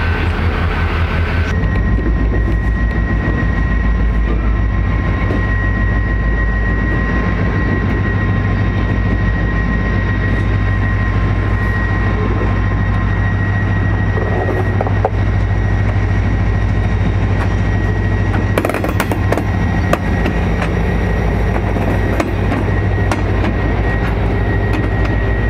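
A Keokuk Junction Railway GP-20 diesel locomotive hauls a train past, its engine giving a loud, continuous low rumble and hum with a steady tone and occasional rattling clanks, with no voices.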